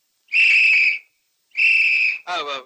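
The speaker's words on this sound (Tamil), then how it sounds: "விசில் எனக்கு ரொம்ப பிடிக்கும்." Two long, loud, steady whistle blasts with a short pause between them, followed by a brief burst of voice at the end.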